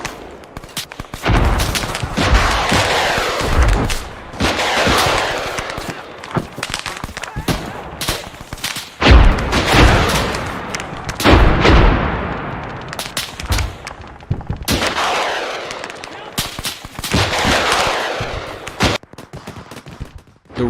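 Heavy gunfire from tanks and artillery in a war setting: dense, loud bursts of shots and booming blasts that come in repeated waves across the whole stretch, with barely any pause between volleys.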